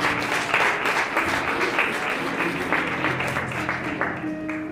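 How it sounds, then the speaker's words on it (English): Steady, loud applause fills a memorial service as a visiting pastor comes forward, dense clapping sustained throughout with organ or keyboard tones sounding underneath. "Come on and clap your hands real good."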